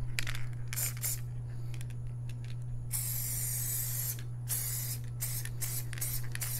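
Spray paint hisses in several bursts onto the edges of a pyramid model, with a steady low hum underneath and short pauses between sprays, including one longer continuous burst.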